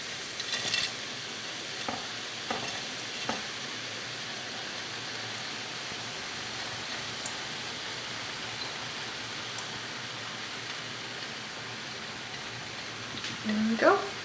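Chicken and bacon sizzle steadily in a pan while vegetables are tipped in, giving a soft, even frying hiss with scattered light clatters and a louder scrape near the end.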